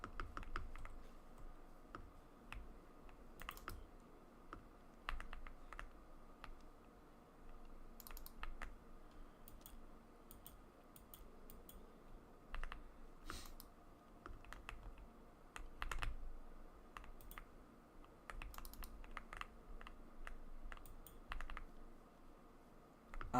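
Steady typing on a computer keyboard during a Minecraft survival session, with quick irregular clicks and occasional sharper key taps running continuously at low volume with no talk.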